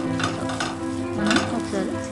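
Grated coconut fries in a pan as turmeric is mixed into it, giving a soft sizzle with a few close scraping and clinking stirs over a short stretch.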